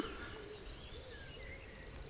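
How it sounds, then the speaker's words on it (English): Tiny wren singing outdoors, its thin high trilling phrases faint and distant over a steady background hiss. "A wren singing, tiny little bird"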